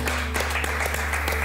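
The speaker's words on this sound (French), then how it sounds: "Edouard, on t'applaudit bien fort." Loud, dense clapping from a studio crowd on a televised baking competition, sending off an eliminated contestant, sustained and close throughout over a low background hum.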